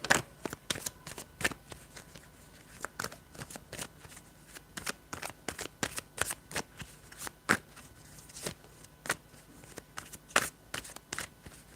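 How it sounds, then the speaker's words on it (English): Tarot cards being shuffled in a steady run of crisp riffling snaps and soft slides, close and fairly quiet, with no voices. "you saw me shuffling"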